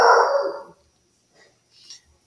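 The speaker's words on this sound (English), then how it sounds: "Please pardon my dog." A dog indoors gives one loud, close, drawn-out bark, followed by quieter faint sounds and near silence.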